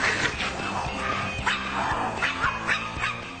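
Small dogs bark and yip in quick, scrappy bursts as they squabble indoors, a busy overlapping run of sharp barks with brief whimpers, fairly close and fairly loud.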